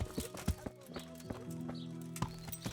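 Horse hooves in Kingdom Come: Deliverance clop in an uneven rhythm close by, with a low tonal hum beneath and a brief whinny-like sound in the middle.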